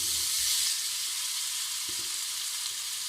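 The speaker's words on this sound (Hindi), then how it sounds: "वेजिटेबल ऑयल इस्तेमाल करें। और उसको जैसे ही वो गर्म हो थोड़ा सा तो ये सारा चिकन इसमें आप डाल दें।" Chicken pieces tipped into a little hot vegetable oil sizzle in a steady loud hiss, with a few faint stirring clinks, and no one talking.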